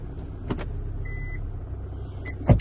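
The electric side mirrors of a used car inspected at a South Korean auction move with short motor whirs, each starting and ending with a sharp click, over a quiet idling background.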